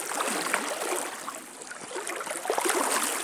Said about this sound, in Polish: Ale potężny nurt jest.